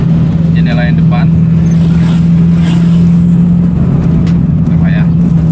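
A 1998 Toyota Corolla AE111 driving with the front window open: steady engine and road drone with wind rush, close and loud, while someone talks over it.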